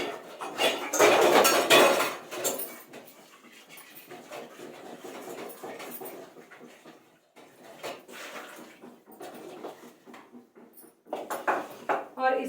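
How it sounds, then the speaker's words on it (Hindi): Dishes, pots and utensils being washed by hand in a home kitchen, with clattering and clinking loudest early on, then quieter rinsing and handling sounds, alongside a dog's panting or whimpering. "एक बर्तन निकाल देती हूँ धो के अपने सब्जी के लिए, उसके बाद फिर बाकी के बर्तन धोती हूँ"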